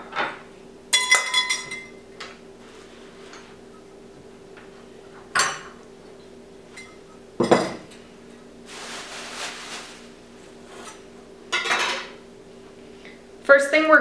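Bowl and cutting board shifted on a kitchen counter while making a sesame-paste dressing for a paleo ahi tuna appetizer: a few separate knocks and clinks, close and fairly loud, spaced across quiet moments with a steady background hum.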